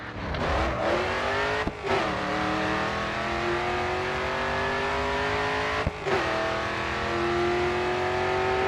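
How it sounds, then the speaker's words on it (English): In the Grid 2 racing game, a race car engine howls at full throttle, pitch climbing steadily through the gears with two brief shift breaks, loud and continuous throughout. "All right, full throttle now, coming onto the final straight."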